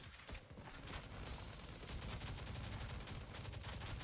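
Rapid automatic gunfire from a defensive turret in the survival video game Last Day on Earth, during a police station wave defense, rattles continuously and loudly throughout, dense bursts blending into a sustained barrage without speech.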